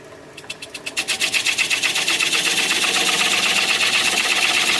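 A wood lathe spins a bowl while a quarter inch spindle gouge cuts grooves. A rapid rhythmic chatter builds over the first two seconds into a loud, continuous, buzzing cut.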